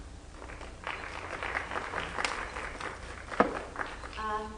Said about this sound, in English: Applause during comments, either comments by the public or by board members or by presentations, is inappropriate